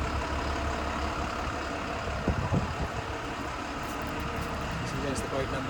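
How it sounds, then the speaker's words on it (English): A crane working in a boat yard rumbles and drones steadily nearby, a low engine hum with occasional clanks, while a person talks over it. "there's a crane working beside me here in the yard."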